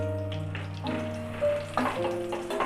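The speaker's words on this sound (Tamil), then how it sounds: "இப்போ இதிலே தாளிச்சிடலாம்" Soft sizzling and crackling of mustard seeds, fenugreek and urad dal tempering in hot sesame oil, with a faint steady hum underneath and a few brief tonal squeaks.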